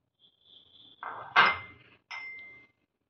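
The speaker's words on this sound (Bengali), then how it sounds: "সব আমি কুকারে দিয়ে দিলাম।" Tomatoes, grapes and soaked tamarind being tipped into a pressure cooker for chutney, a few brief metallic clinks and knocks against the pot, close and quiet, with no talking.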